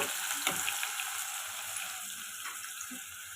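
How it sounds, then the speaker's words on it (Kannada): Pineapple pieces fry in oil with cumin seeds and curry leaves for a pineapple gravy, giving a steady, moderate sizzle with faint clinks from stirring and no talk. "ಈ ಪೈನಾಪಲ್ಲು ಎಣ್ಣೆಯಲ್ಲೇ ಸ್ವಲ್ಪ ಫ್ರೈ ಮಾಡ್ಕೊಬೇಕು"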